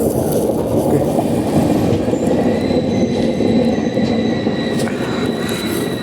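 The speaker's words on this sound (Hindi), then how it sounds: "अपने निर्धारित समय 10:08 से 5 मिनट पहले 10:03 पर हमारी सौराष्ट्र जनता एक्सप्रेस पहुंच चुकी है" Saurashtra Janta Express standing at Vadodara Junction, a steady loud rumble of train and station noise with faint high squeals, continuous for several seconds with no talk.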